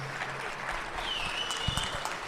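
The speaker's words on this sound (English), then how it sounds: "let's give a round of applause for both of these guys." Debate audience applauds the two debaters, a steady wash of clapping filling the room at moderate loudness with a faint murmur beneath it.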